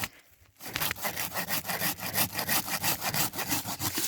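A hand saw cuts through yucca wood in quick, regular rasping strokes, each back-and-forth pass loud and close, continuing steadily after a short quiet start.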